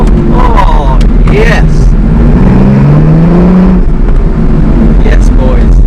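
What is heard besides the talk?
Aston Martin supercar accelerating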